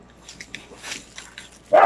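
A single short dog bark rings out at the end after a quiet stretch of faint rustling.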